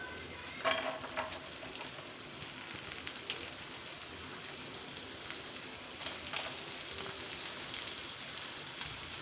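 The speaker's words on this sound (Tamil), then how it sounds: "வெங்காயம் ஆட் பண்ண உடனே ஒரு 2 மினிட்ஸ் நல்லா ஃப்ரை பண்ணி விடுங்க" Chopped onion sizzles quietly in melted butter in a pan, a soft, steady crackling hiss with a few brief louder pops, fairly faint throughout.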